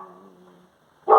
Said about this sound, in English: it's actually quite interesting that my dogs all just bark then